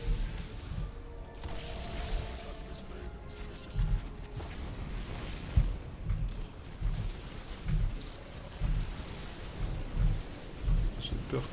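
Storm spell effects in StarCraft II, heard as a thick wash of rain with repeated thunder-like booms and crackles recurring every second or so, fairly loud throughout.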